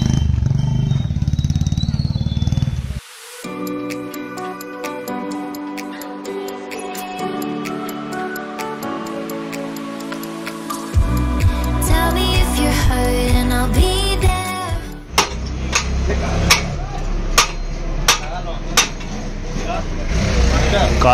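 A Royal Enfield Classic 350 Reborn with a Short Punjab exhaust and catalytic converter idles with a steady thumping note. Hard revs follow as sharp blips and rising surges near the end, with voices in the background.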